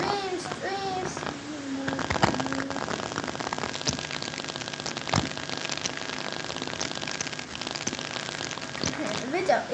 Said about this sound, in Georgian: აუ წვიმს